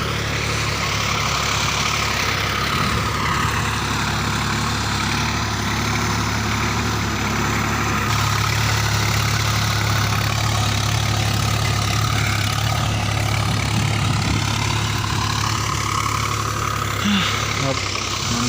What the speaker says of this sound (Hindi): फाइनली गाइस ट्रैक्टर अभी लगा रहा है,